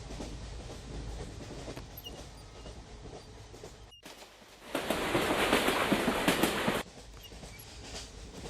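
A passenger train moving along rails, a steady rumbling clatter throughout that swells louder and harsher for a couple of seconds midway before settling back.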